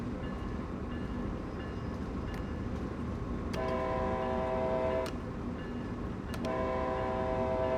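Horn on a train in a train-driving video game, sounding two long chord blasts over a steady rolling rail rumble, the second blast held to the end.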